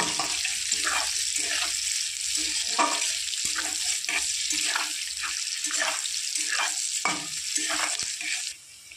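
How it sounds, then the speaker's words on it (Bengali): Petal-cut onion frying lightly in a pan for pasta, with a continuous close sizzle broken by rhythmic stirring scrapes, sounding wet and busy until it drops away at the end. "পেঁয়াজটা আমি হালকা করে ভেজে নেব"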